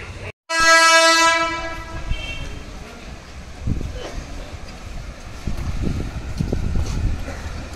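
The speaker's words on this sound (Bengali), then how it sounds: "আমাদের ট্রেন বিরাটি স্টেশনে ঢুকছে।" A train pulls into Birati railway station with a loud horn blast up front, followed by rumbling and clattering carriages and faint voices on the platform.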